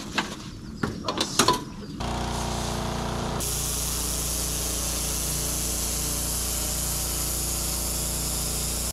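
A pressure washer sprays hard onto a surface with a steady, loud hiss that begins after a few brief knocks and rises further partway through, continuing evenly to the end.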